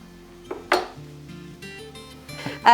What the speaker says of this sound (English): I'm going to chuck the entire thing into that saucepan